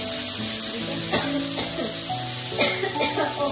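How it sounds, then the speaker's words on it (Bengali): Potatoes fry in a pan with a pinch of chili powder. A steady close sizzle hisses throughout, broken by a few sharp stirring scrapes and clacks. "এই দিয়ে আলুটাকে বেশ ভালো করে ভেজে নিতে হবে।"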